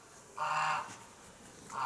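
Geese honk in short nasal calls, one clear honk followed by another starting, moderately close against a quiet outdoor ranch background in January.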